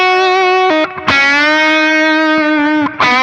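A Fender Richie Kotzen Telecaster in its parallel pickup setting gives a thick, pushed, humbucker-like electric guitar tone, loud sustained chords ringing out with two brief breaks and no talking.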